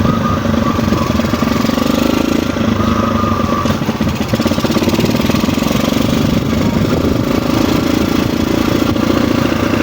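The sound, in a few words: motorcycle engine running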